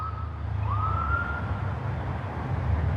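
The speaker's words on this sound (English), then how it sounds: "You hear the sirens?" Police sirens wail from out in the street, a rising and falling tone that sounds fairly distant over steady background traffic rumble, with no talk.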